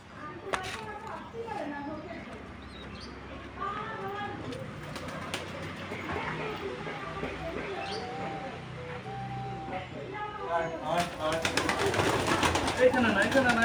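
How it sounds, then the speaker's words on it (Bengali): Pigeons being fed coo and shuffle around nearby, soft throaty calls mixed with scattered chirps, fluttering and handling noises, while a person talks over them. "তো চলো বেশি লেট না করে সবকটা পায়রাকে এখন খেতে দিয়ে দিই।"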